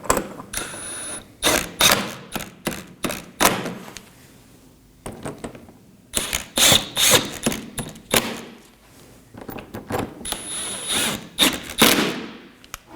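A ratchet snugs down 10mm and 8mm bolts on the serpentine belt setup of a 2013-2019 Nissan Sentra 1.8L L4, with bursts of quick clicking strokes separated by short pauses, close and fairly quiet.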